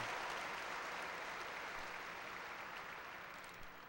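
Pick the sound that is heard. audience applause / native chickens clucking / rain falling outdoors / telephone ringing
audience applause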